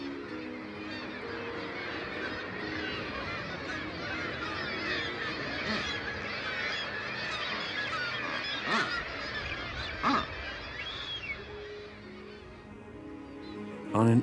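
Peruvian booby family calling at their nest on an isolated island off the Chilean coast, with repeated honking, goose-like calls near and loud over a steady colony din.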